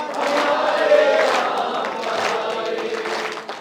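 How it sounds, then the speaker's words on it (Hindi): Audience applause and crowd noise at a Hindi poetry recital: a large hall of clapping and cheering voices, steady and loud throughout, fading slightly at the end. "एक बार हाथ उठाकर तालियां बजा दीजिए।"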